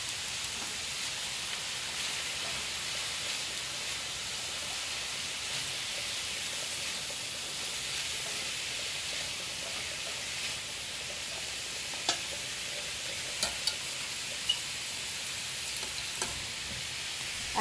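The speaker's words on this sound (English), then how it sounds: "you want to just be careful that you don't let that sputter on you because it's going to be very hot" Cheesy polenta with zucchini and peppers cooking in a hot pan, a steady dense sizzle with occasional sharp pops and sputters near the end, moderately close and without talk.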